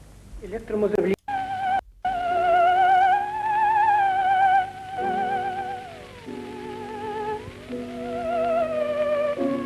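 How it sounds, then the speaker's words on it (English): An eerie electronic tone with wide vibrato glides smoothly between pitches, sustained and wavering, with a couple of abrupt cuts early on. "a theremin sounds like this"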